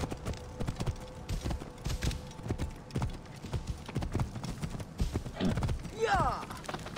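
Horse hooves clip-clop in Assassin's Creed Origins, a fast rhythmic trot close by with a neigh near the end, under someone talking.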